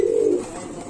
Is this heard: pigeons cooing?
yes